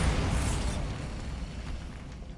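A Bombarda blasting spell goes off in Hogwarts Legacy, a loud, dense explosive roar that fills the clip and slowly tapers over about two seconds, with no talk over it.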